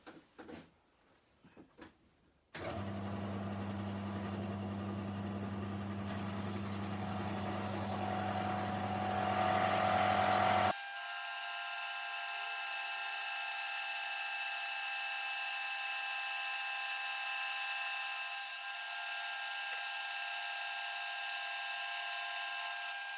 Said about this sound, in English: Lots more noisy milling.